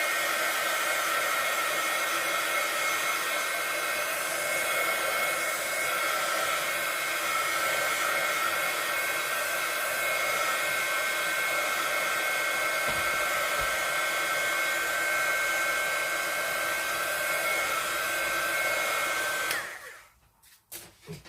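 A hair dryer blows steadily for about twenty seconds while drying an acrylic paint background, giving a close, loud, even whoosh with a faint whine, then it switches off abruptly at the end.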